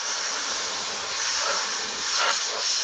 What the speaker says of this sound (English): That's why you use canned air.